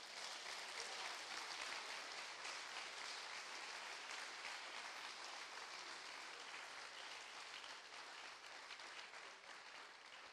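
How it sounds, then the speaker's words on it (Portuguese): Sustained applause from a church congregation during a Portuguese-language communion service sermon, a dense steady wash of many hands clapping that holds at an even level for about ten seconds with no talk over it. "Você pode aplaudir o Senhor?"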